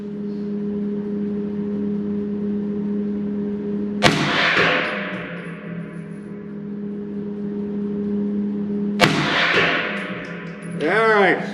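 Two sharp gunshots from a 16-inch AR9 blowback 9mm carbine fired outdoors, each a loud crack followed by a long decaying echo, spaced about five seconds apart over a steady low hum.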